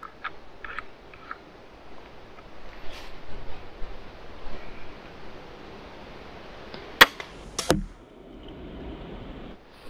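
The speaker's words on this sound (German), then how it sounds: "wir haben jetzt mit den Carbonbolzen mit der geschossen gehabt und aus 10 Meter sind die einfach durch die Scheibe durch" A pistol crossbow shooting carbon bolts into a straw target from 10 metres outdoors: quiet outdoor ambience, then near the end two sharp, close impact cracks in quick succession, with a few faint clicks earlier.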